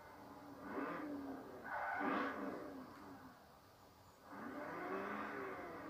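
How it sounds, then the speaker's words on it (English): A high-powered car engine in Forza Horizon 4 revs three times in a row, each rev climbing sharply and then falling away, fairly loud and with no talking over it. "And I do like revving."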